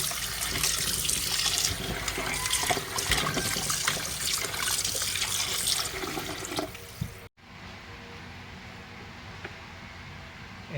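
Tap water runs steadily into a sink while chicken wings are washed under it, a continuous rushing splash that stops abruptly, followed by quiet room tone.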